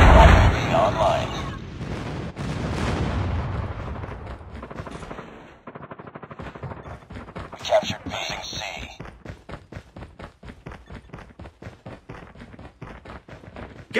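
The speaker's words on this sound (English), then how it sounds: "Gunfire on his left" Gunfire rattles in the Call of Duty video game, with heavy bursts early on and then a long run of rapid automatic shots, while in-game voices call out over the shooting.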